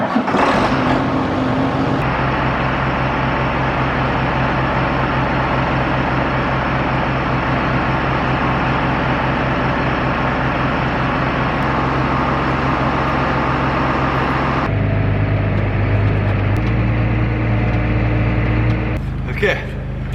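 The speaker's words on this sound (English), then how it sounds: "Oh shoot, we gotta get a cold start." A farm vehicle engine at harvest cranks and fires in a cold start, then settles into a loud steady close running drone that shifts tone partway through; people talk over it.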